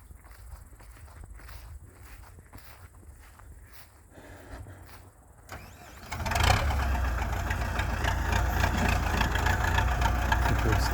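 A tractor engine starts after a stretch of quieter tapping and ambient noise, then settles into a loud, steady close-up idle rumble.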